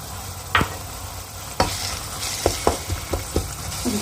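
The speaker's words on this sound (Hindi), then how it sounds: "अब हम इसके अंदर प्याज डाल देंगे। टिंडों का गूदा निकाला था, ये भी हम डाल देंगे।" Onion and tinda (round gourd) pulp drop into frying masala, sizzling steadily with several sharp clatters and scraping stirs near the pan.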